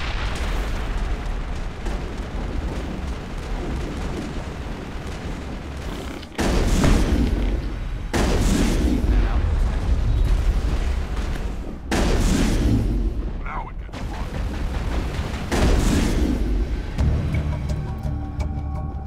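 Heavy crossfire and turret fire in a Mass Effect battle against the Geth, loud booming blasts and gunshot bursts arriving in several thick waves separated by brief abrupt drops.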